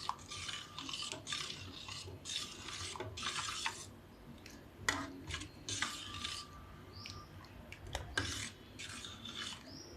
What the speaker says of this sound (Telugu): గడ్డలు కట్టకుండా కలుపుకోవాలి.